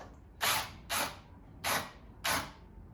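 Wing screws being turned down on a plastic media center enclosure make four short, close, ratcheting creaks in an even rhythm, with quiet gaps between.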